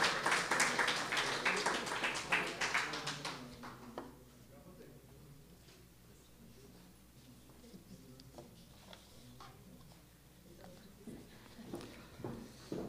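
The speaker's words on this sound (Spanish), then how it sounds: "Un aplauso para Óscar Eduardo Bustos." Audience at an award ceremony for international missions recognitions clapping for an honoree, a brief burst of applause at the start that quickly fades to faint scattered claps and room murmur, with a few taps returning at the end.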